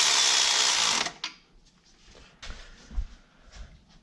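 A wrench works bolts into a factory compressor bracket on a Ford 5.0. A loud, dense mechanical whir cuts off after a second, followed by sparse close clicks and metallic knocks.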